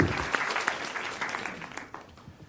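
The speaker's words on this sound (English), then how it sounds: "Let's give her a round of applause." A round of applause for a grandmother honored as a leader at Poly High School at a board meeting, a soft, fairly distant patter of clapping that fades out over a couple of seconds.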